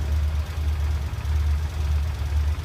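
A Yamaha TDM 900 two-cylinder motorcycle engine idles close by with a steady, low, throbbing rhythm and slight uneven pulsing, no voices over it.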